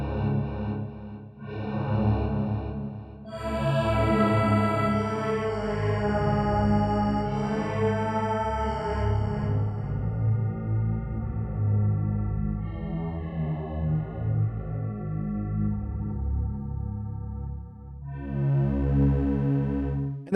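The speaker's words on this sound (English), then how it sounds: "a little bit of delay, and this is going to be on a quarter note synced and on ping pong" An Arturia DX7 synth pad plays sustained, shimmering chords treated with chorus and a quarter-note synced ping-pong delay, the echoes trailing rhythmically as the pad swells and shifts over about twenty seconds, with no voices.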